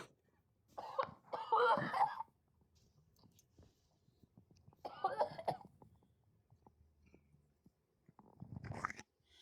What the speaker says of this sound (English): Yeah, I'm coughing too.